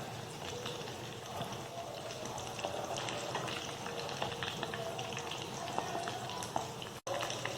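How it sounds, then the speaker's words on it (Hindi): Dal bafla bati frying in a pan gives a steady, dense crackle and bubbling hiss that holds evenly throughout, with tiny pops scattered across it and a brief dropout near the end. "हमारी जो बाटी है वो अब फ्राई हो चुकी है"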